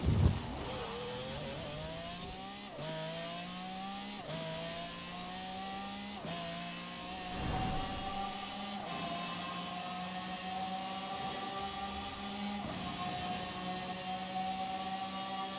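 Car racing in the Forza Horizon 4 game: a single engine revs up steadily through repeated gear shifts, each pitch climb cut off and restarting, loud and continuous without talk.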